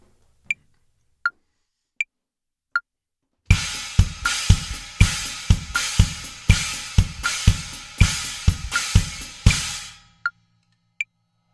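Drums play a steady 2 against 3 polyrhythm, with layered hits repeating in an even cycle for several seconds, loud and close. Metronome clicks tick alone before and after the playing.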